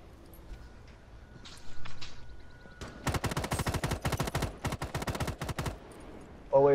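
Rapid bursts of automatic gunfire from a video game crackle in a dense run of sharp shots after a quieter stretch with faint background sounds, with no talk over the shooting.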